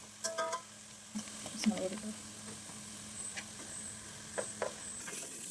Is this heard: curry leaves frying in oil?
yes